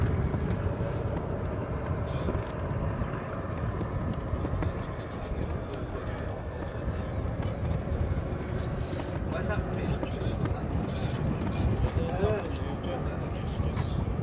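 A de Havilland Chipmunk trainer aircraft at RAF Coningsby gives off a constant, rumbling propeller engine drone at some distance, with wind noise, while people talk over it.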